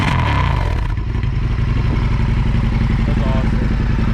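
Indian FTR motorcycle, a 2023 R Carbon fitted with an Akrapovic cat delete exhaust, runs steady and loud up close with a throaty, pulsing engine note throughout.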